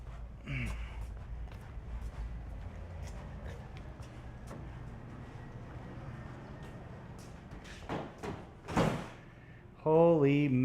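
A door is shut loudly with a sharp bang and a rattling, booming thud standing out near the end over low room rumble and background noise, followed by someone speaking.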